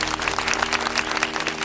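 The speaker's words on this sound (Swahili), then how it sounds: "naomba wote tumpigie makofi" Crowd applause honouring a marathon runner, a loud, brisk burst of many hands clapping with sharp individual claps standing out, close and steady throughout.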